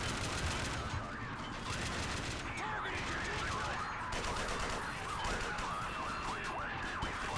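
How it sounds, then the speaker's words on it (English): Rapid automatic gunfire from a Call of Duty: World War 3 mod shooter rattles continuously through a SWAT police combat battle, overlapping with wailing sirens and dense battlefield noise at a steady, loud level. "We're opening fire."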